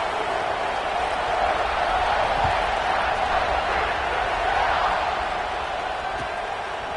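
A Utah football stadium crowd roars at a kickoff, a dense, steady wash of cheering and crowd noise that holds at a loud level throughout, with no distinct individual sounds standing out.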